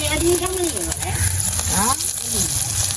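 Onion, curry leaves, dried chilli and mustard seeds sizzle steadily in hot oil in a home kitchen while someone talks over the frying.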